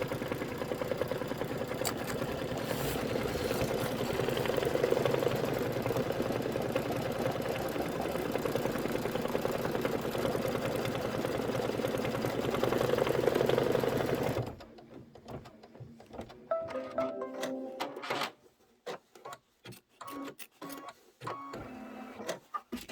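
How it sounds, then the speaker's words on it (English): An embroidery machine sews satin stitching on a Kimberbell Cup of Cheer project, running as a loud, steady, rapid mechanical whir for about fourteen seconds, then stopping and leaving scattered clicks and handling noises. "Then we're going to do some satin stitching."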